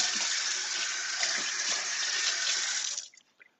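Kitchen tap running steadily for a quick rinse of oily cooked chickpeas, a close, bright hiss of water that holds for about three seconds, then cuts off with a few drips and small clinks.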